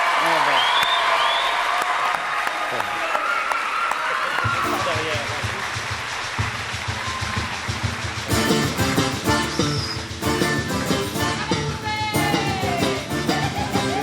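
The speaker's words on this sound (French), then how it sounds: "Applaudissements." Studio audience on a French TV variety show applauds a guest's entrance, the clapping sustained under loud music and voices, swelling louder in the second half.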